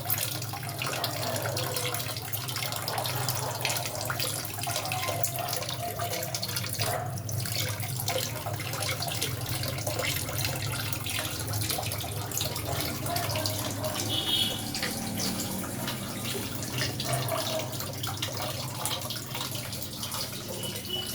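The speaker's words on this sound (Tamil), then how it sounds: "பாருங்கள், டேப்பில் தண்ணியில் போடுறேன்." Water runs steadily from a tap into a sink, splashing and gurgling close by without pause for the whole stretch.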